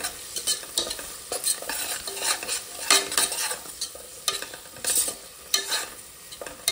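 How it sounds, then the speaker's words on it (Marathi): Vegetables fry with turmeric in a pan as a spoon stirs repeatedly, giving a close sizzle under rhythmic scraping and clattering strokes, with no speech. "थोडीशी हळदी. याला पण मस्त फ्राय करू."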